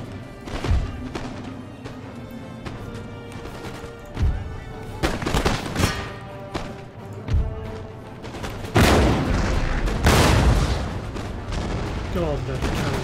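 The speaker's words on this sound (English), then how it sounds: "God, the cannons, these cannons are terrible." Cannons fire in the Empire: Total War video game during a French and Indian War battle: heavy booms land irregularly, several loud blasts clustered near the end, over ongoing battle noise.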